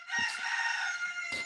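A rooster crows among chickens in the early morning, one loud, close, drawn-out cock-a-doodle-doo that fills the moment with nothing else competing.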